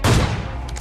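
Gunfire from a video game in a dinosaur-themed match, a dense burst of loud shots clustered at the start and then trailing into a rolling rumble, heard alone without talk.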